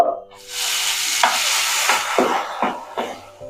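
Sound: sago frying in ghee

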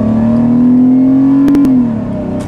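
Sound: Chrysler LeBaron with new intake accelerating

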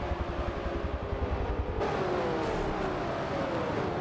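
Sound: race cars in a NASCAR racing video game

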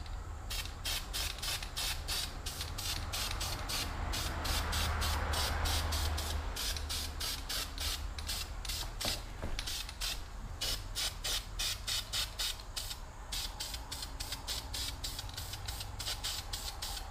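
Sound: spray can painting a wheel

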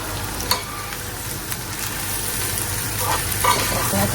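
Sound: fish, tomato, onion and green chili frying in oil

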